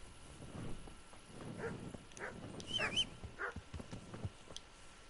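A dog in the video game Kingdom Come: Deliverance gives a few short barks and yips at close range, spaced out over a few seconds against a quiet background.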